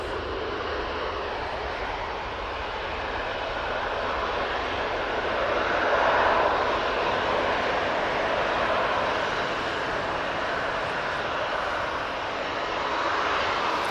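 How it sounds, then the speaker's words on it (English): A Jet2 Airbus A321neo rolls for takeoff at Manchester Airport, its engines a loud, steady, broadband roar that swells slightly midway and holds throughout, heard from a distance with no talk. "Jet 2, A321 Neo, and now on the roll."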